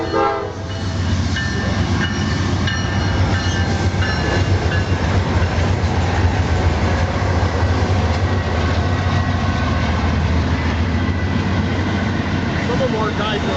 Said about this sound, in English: Yet another westbound intermodal, 21J, scoots past just before the 765 is due for another pass.